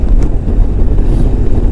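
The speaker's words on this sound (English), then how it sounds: "It's windy." Steady low wind rumble buffets the microphone, a constant roaring gust with no pauses.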